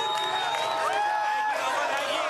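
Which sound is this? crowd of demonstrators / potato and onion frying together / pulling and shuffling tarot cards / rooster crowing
crowd of demonstrators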